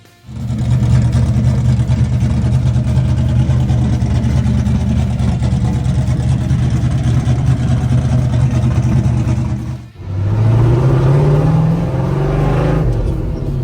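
A straight-piped car engine runs loud and close with a rough, raspy drone, briefly dropping off near the end before picking back up into a rising rev.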